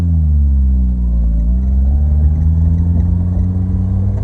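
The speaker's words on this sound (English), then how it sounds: "So I'm gonna set her down and go for a test drive." A vehicle engine revs loudly on a test drive after a speedometer cable repair, a steady close drone whose pitch dips and then climbs again as it accelerates, with no talking.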